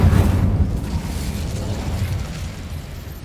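An Incendio fire spell bursts in Hogwarts Legacy with a loud, close whooshing blast of flame that rumbles and slowly fades over a few seconds, with no talking.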